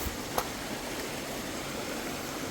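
A small river stream at a campsite in Bailen, Cavite flows steadily, a constant rushing, bubbling wash of water with one brief click near the start.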